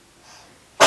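One short, sharp sneeze bursts out at the very end after a brief faint breathy intake, close and fairly loud.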